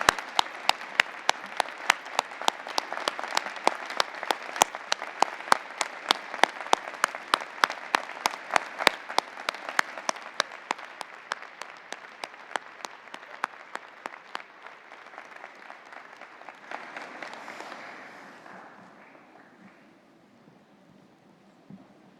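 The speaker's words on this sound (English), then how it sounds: "give a huge round of applause to the people who supported you" A large convocation audience of university graduates applauds their families in a spring ceremony hall, sustained dense clapping punctuated by sharp individual claps, gradually thinning and fading out toward the end.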